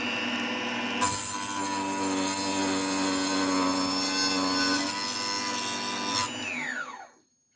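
Mini cut-off chop saw for hobby use spins up and grinds steadily through a workpiece with a loud, high whine, then winds down and falls silent at the end.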